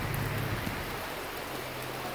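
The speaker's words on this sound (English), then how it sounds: "it's pouring rain" Steady, dense hiss of pouring rain outside a Tractor Supply store, continuous and fairly loud with a faint low hum beneath and no voices.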